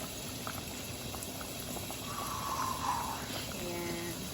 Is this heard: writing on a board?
no